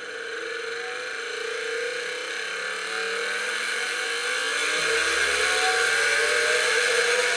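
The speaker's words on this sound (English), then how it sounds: "you should start to see the motor spin up fairly soon" A small electric motor driven from a GertBoard on a Raspberry Pi spins up with a steady whirring drone that swells slightly in loudness, with no voices.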